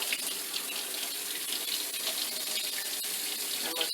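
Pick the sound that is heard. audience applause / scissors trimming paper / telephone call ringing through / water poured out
water poured out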